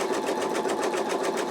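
An embroidery machine stitches out an in-the-hoop wallet, its needle running in a steady, fast rhythmic chatter with no pauses, close and moderately loud throughout.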